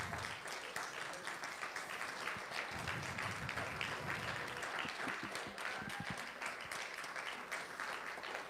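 A church congregation applauds the sound and lights technician, sustained warm clapping filling the room, with a few voices underneath.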